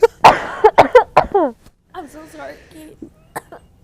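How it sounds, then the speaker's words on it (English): Someone coughs several times in quick succession, sharp and close, then speaks briefly afterward with a clearing of the throat. "I'm gonna cough."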